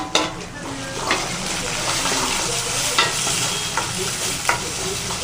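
Chopped tomatoes hit a pan of frying onions for dal dokli, a steady sizzle running throughout while a spoon stirs and scrapes, giving a few sharper clinks against the pan, close and fairly loud.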